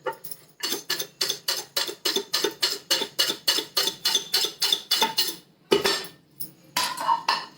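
A spoon clinks rhythmically against a bowl while papad churi snack ingredients with lemon juice are stirred together, about twenty quick metallic scrapes in a steady beat, then a few irregular knocks.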